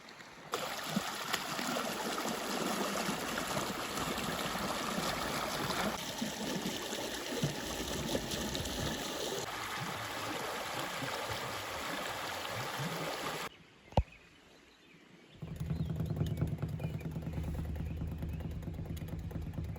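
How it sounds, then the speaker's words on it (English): A small creek at a Black Hills campsite in South Dakota, a steady close rush and trickle of flowing water filling most of the stretch, briefly cut off near the end before a lower, steadier wash returns. "there is a nice little creek"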